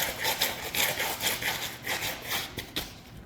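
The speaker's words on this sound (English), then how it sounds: "I'm just going to rub that into the cement with my shoe." A shoe rubs spilled gasoline into a cement floor during work on a rare mini motorcycle, making a steady, close scraping and rasping with rhythmic strokes, alone and with no talking.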